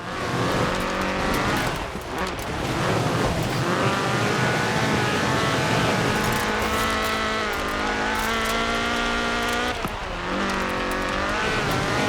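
Rally car with a fuel-injected 1790cc Cosworth BDE engine in Forza Horizon 4, engine droning loud and steady with rising and falling revs through gear changes, continuous throughout.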